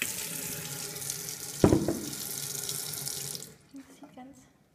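Tap water runs steadily from a faucet into a container for making infused water, a continuous splashing rush with a brief clatter partway, then shutting off to a few faint drips.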